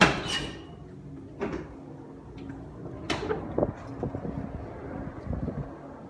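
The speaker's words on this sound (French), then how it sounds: "on va ouvrir cette porte" A door swinging open inside a house, with several soft knocks, creaks and handling clicks spread over a quiet, breezy room tone, fairly close and moderately loud.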